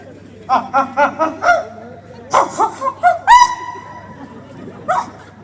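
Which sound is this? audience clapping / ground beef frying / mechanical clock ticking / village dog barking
village dog barking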